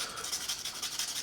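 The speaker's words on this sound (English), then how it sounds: "I'll take some sandpaper" Old, worn sandpaper rubbing back and forth over a Squier Affinity Stratocaster fretboard during a re-fret, giving a soft, steady scratchy hiss in quick repeated strokes, close and fairly quiet.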